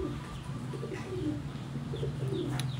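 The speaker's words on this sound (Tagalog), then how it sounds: "ano yun, kalapati." Soft, low pigeon cooing repeats steadily against a constant background hum, with faint chirps now and then.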